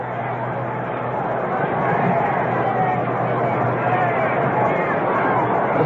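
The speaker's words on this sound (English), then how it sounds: "This crowd coming alive as Mays moves into the batter's box." Baseball stadium crowd at Game 6 of the 1962 World Series between the New York Yankees and San Francisco Giants, a steady roar of chatter and cheering that swells slightly as Willie Mays steps in, with a broadcaster's voice over it.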